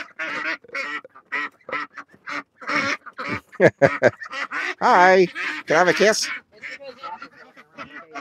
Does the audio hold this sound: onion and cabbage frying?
no